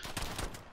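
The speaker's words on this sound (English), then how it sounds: "They're using shotguns" A brief volley of shotgun fire in the video game Call of Duty Modern Warfare, two or three quick booming blasts heard fairly quietly in under a second.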